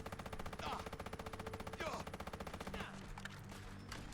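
An unsuppressed FN F2000 rifle fires in Fallout 4 in rapid, steady fully automatic bursts, each shot a sharp crack. The fire is dense and loud, with a couple of heavier impacts, and it thins out toward the end.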